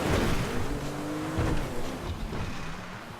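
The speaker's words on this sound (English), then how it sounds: "Oh, the engine sounds awful." A struggling vehicle engine in GTA V, rough fluctuating revving with tire noise on a dirt path, loud and close, no speech.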